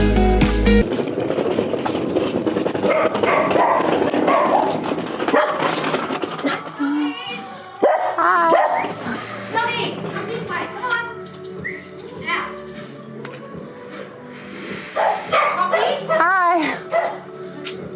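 Several dogs bark in loud, irregular bursts at close range, overlapping with people talking and a voice, with busy background noise throughout.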